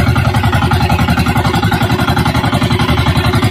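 A boat engine runs close by with a rapid, even chugging pulse while out fishing. It is loud, steady and without speech.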